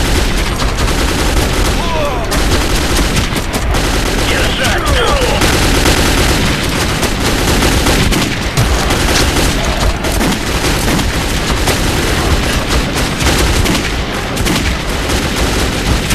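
Gunfire in Metro 2033 on hardcore difficulty, a loud, dense barrage of shots and booms running almost without pause, with some talk faintly mixed in.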